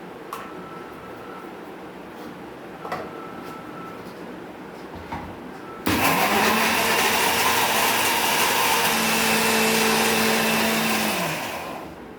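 A mixer grinder motor starts abruptly and runs loud and steady, grinding roasted sesame seeds and roasted peanuts for chutney, a whirring roar that winds down at the end after quiet kitchen sounds.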